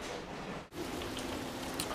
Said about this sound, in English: it's been raining for over a day